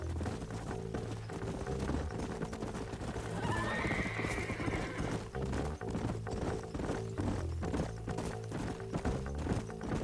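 Horses in a Western open-world game whinny and clip-clop, a neigh rising over a steady, rhythmic patter of hooves under a bed of background music, with no talking.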